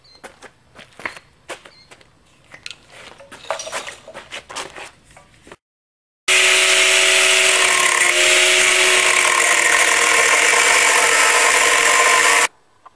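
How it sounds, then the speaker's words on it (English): Cutting wheel grinder notching the case of a Dodge 727 transmission, a loud continuous high-pitched whine lasting about six seconds, preceded by scattered clanks and handling of parts. "I have to take the cutting wheel grinder and make a notch just like that one in the other tranny"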